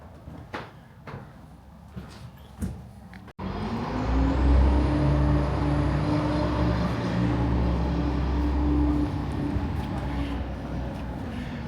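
Road traffic passes in Taos: a few brief knocks and bumps, then a loud truck or bus rumbles by up close for several seconds, with a low engine drone and a long fading whine.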